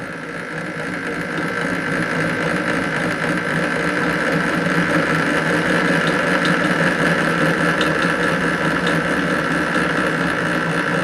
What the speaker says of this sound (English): And we'll turn the milling machine on now.